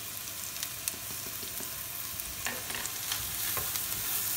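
Chicken pieces sizzle gently in a pan, a quiet even crackle with scattered light scrapes and taps from stirring, close and without talk.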